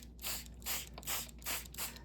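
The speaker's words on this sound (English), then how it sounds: "I'm going to spray my sheet" Five quick hissing spritzes of water from a spray bottle onto a sheet, evenly spaced in a steady rhythm, close and fairly soft.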